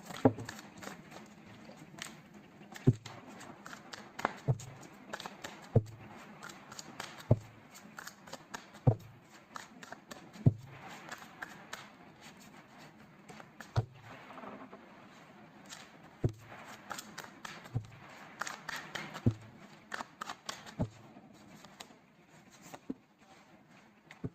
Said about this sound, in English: So let's pull some cards from universe where this connection is headed on and the outcome.